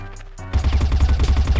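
Rapid automatic spray fire from a gun in a video game, a quick burst of dense repeated shots following a short quiet lead-in, loud and close.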